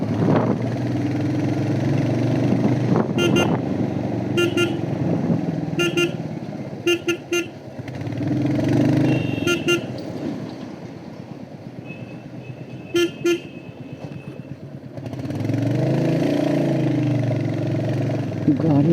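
A Royal Enfield Hunter motorcycle rides off-road with its engine rumbling steadily underneath, while a rider talks over it and sharp horn toots from other vehicles break in several times.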